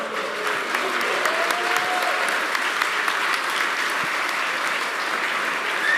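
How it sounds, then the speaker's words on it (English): Audience applause at a Star Citizen fan convention, a dense steady clapping from a large crowd that carries on for several seconds without voices. "That's worth a clap, guys."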